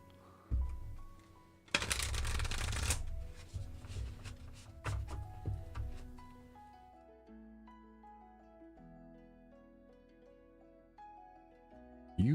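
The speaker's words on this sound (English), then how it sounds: "One final shuffle." A brief riffling burst of tarot cards being shuffled, followed by soft handling sounds over gentle background music.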